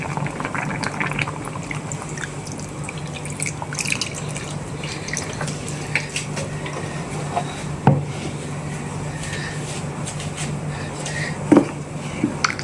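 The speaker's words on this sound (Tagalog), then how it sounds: "Haluin lang natin ng konti mga bossing para ma-mix yung kanyang gatas" Soup of quail eggs with milk being stirred in a pot, giving a steady low simmering wash with soft liquid sloshes and a couple of sharp spoon clinks against the pot.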